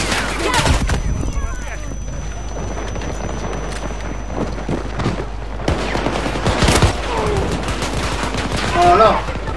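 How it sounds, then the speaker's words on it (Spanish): Battlefield 2042 firefight with a grenade blast and rapid bursts of gunfire, loud and continuous across the whole stretch, with voices mixed in. "¡Les tiro una granada!"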